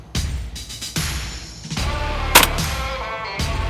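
Shotgun blasts fired at a thrown clay target, several loud sharp reports spaced a second or so apart, each with a brief outdoor echo, one especially crisp crack near the middle.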